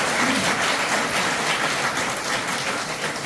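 Audience, mostly women, at a nutrition and supplements seminar giving loud, continuous applause, a dense even wash of clapping with no gaps.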